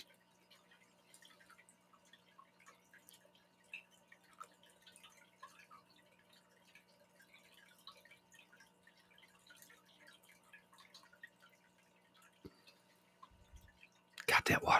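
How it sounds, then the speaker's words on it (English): Aquarium water trickles and drips in a home fish-tank room, a faint continuous patter of small droplets over a low steady hum, ending in a sudden louder burst. "that water sounds so loud behind me"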